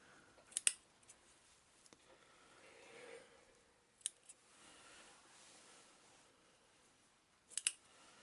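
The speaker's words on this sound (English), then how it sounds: "If you're wondering why I'm using such huge scissors" Large scissors snip wire for twisted-wire model trees, giving a few sharp clicking cuts spaced several seconds apart, close and fairly quiet against a soft room background with no talk.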